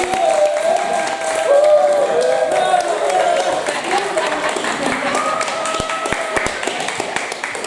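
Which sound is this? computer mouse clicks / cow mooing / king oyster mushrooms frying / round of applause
round of applause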